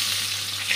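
A bay leaf dropped into hot oil in a pan while cooking an egg curry, giving a steady, close, crackling sizzle with no talk.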